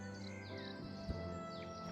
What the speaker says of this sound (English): These birds are slowly grating on my nerves.